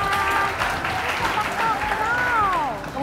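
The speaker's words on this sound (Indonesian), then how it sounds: "tepuk tangan dong buat temennya" A room of students applauds a classmate named as a future sepak takraw athlete, steady dense clapping throughout with voices and cheers mixed in over it.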